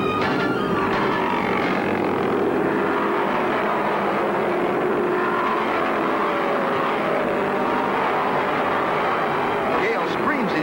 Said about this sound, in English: Cale screams his Chevy into the lead once again.